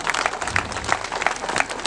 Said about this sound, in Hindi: सबों के नाम पर हम एक बार जोरदार ताली बजा देंगे।